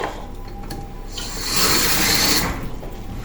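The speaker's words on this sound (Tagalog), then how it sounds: "Lagyan natin ito ng tubig." Water is poured into a pot of chicken gizzard caldereta, making a short, rushing splash of about a second over faint background noise.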